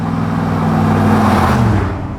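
A 1971 Toyota Land Cruiser FJ44 fitted with an aluminum, fuel-injected LS3 6.2-liter V8 rumbles steadily with a low, even hum that shifts pitch slightly, heard close and alone.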